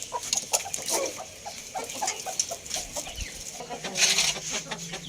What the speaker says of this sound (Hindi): देसी मुर्गियों को भी खोल देते हैं